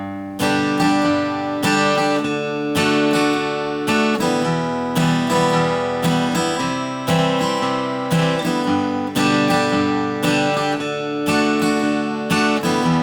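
A guitar plays a chord progression with a country feel and many root notes, strummed in a steady rhythm, loud and close with no voices.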